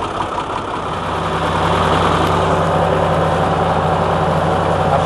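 Tractor engine running steadily while planting seed in a 5-acre field in fourth gear, a constant loud low rumble with an even hum and no pauses.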